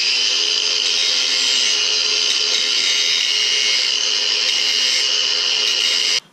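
A handheld grinder wears down ribs on a Suzuki V-Strom 650 motorcycle handlebar to fit heated grips, a loud, steady high-pitched whine with a bright hiss, running continuously before stopping abruptly at the end.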